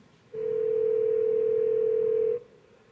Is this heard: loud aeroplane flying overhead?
no